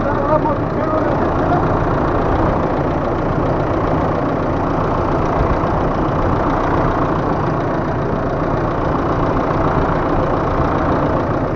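A New Holland TR6.130 tractor engine idles steadily and continuously, a dense low rumble with no pauses, close and fairly loud.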